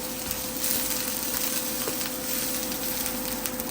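Garlic fries in hot oil in a pan, giving a dense, steady sizzle that stays even and close throughout without a break, with no talking over it.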